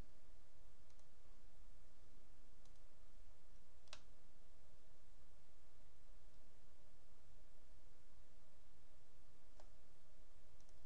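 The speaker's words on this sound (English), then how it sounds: "Click Apply from the dashboard." A couple of faint, isolated mouse clicks over a steady hiss while working in Creo Parametric CAD software, spaced several seconds apart with no talk.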